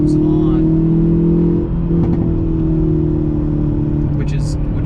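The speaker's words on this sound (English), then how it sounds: "if you, let's say, will downshift into high RPMs, the torque just comes on" A 2020 Hyundai Veloster N hot hatch holds a sustained, loud engine drone at high RPM. A steady tonal whine carries on evenly throughout, with a slight dip and recovery partway through.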